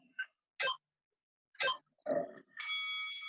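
A bell sounds during an exercise interval: a few short bright dings, then a longer sustained ring at the end, with brief vocal sounds between them.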